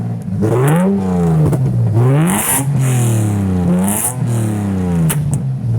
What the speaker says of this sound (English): All right, revs for the first time.